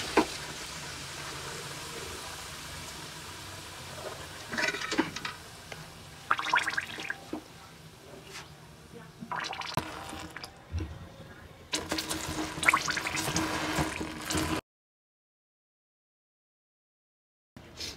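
Half matchsticks drop into smoking-hot mustard oil and set off hissing, bubbling sizzles that swell in bursts and fade. The sound cuts to silence near the end.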